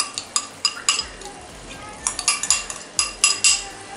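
Masala paste is being stirred into tomato gravy in a pan for Amritsari pindi chole: a metal spoon clinks and scrapes against the pan in quick, uneven bursts over a soft, steady background.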